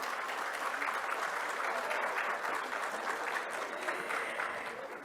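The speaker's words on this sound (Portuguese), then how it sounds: "Uma salva de palmas para ele." An audience at a panel discussion event applauds as a panelist is called to the stage, a continuous dense patter of clapping hands at moderate distance that fades slightly near the end.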